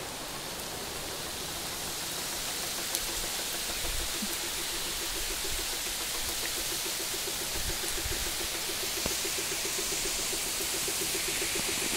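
Steady rain falls in the Konkan countryside as an even, unbroken hiss that fills the whole stretch without pause. No voices are heard.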